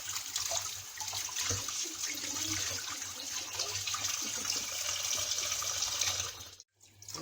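Tap water runs steadily and close by while beef intestines are cleaned under it, with faint squishing and handling sounds and a brief break near the end.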